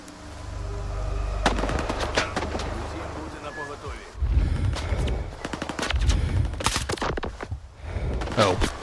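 Bursts of automatic rifle fire in the shooter STALKER 2: Heart of Chornobyl, rapid cracking volleys broken by short gaps, loud and dense, with a steady low hum underneath.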